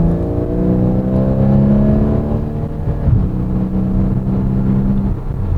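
Porsche Boxster S 981 fitted with a Fabspeed aftermarket exhaust, engine droning and rising in a steady rev with strong low harmonics, loud and close, no talk over it.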